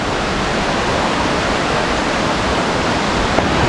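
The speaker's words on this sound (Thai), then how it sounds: "น้ำไหลเป็นสายเป็นสายเลยทุกคน" Water pours steadily in a dense, unbroken rush, like a waterfall heard up close, with no voices.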